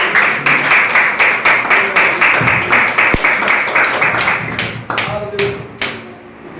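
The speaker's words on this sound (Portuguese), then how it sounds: "batendo as palmas para o Senhor e Salvador Jesus" At an Assembleia de Deus church service, the congregation claps in a steady rhythmic beat, sharp regular hand claps under a voice speaking over them.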